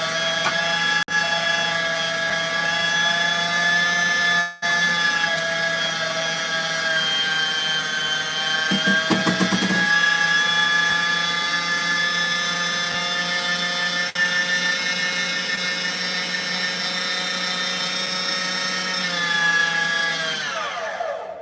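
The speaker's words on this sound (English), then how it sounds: "just put your cubes of meat right in. See how it grinds it up really nice?" A stand mixer fitted with a meat grinder attachment whirs steadily while grinding cubes of roast beef, a loud, sustained motor drone with brief dips and a slowing wind-down at the end.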